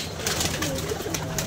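A pigeon coos softly at close range amid steady background noise, low rounded calls repeating through a short stretch.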